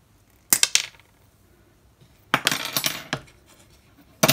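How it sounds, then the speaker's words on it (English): Hand wire cutters snip through a short piece of wire in a hobby craft setting, several small metallic clicks and clinks in separate bursts with quiet between them. "I'll just get my cutters again and I'm going to snip that off"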